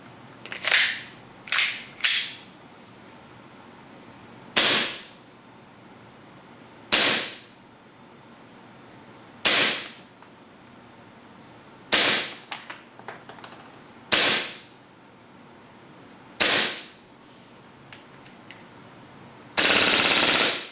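A G18C airsoft pistol test-fires with blowback from a large rear slide cylinder, giving about ten sharp, loud cracks, some in quick pairs and triplets and others spaced a couple of seconds apart, ending in a longer burst.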